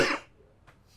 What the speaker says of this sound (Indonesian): Gara-gara Orang batuk aja ke distrik.